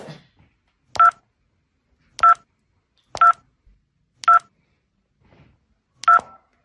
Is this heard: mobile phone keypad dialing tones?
yes